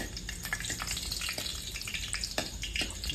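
Whole cumin and dried chilies crackle and sizzle in very hot oil, a dense spitting hiss with scattered sharp pops throughout, close up and steady with no voices.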